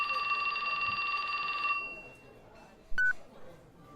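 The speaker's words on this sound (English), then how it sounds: "His phone rang." A telephone rings in the video game 428 Shibuya Scramble, a steady electronic trill lasting under two seconds, then stops, followed by a short beep and quiet background.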